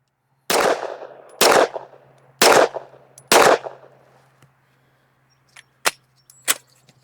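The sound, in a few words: gunshots, ten-shot group fired at target 25 yards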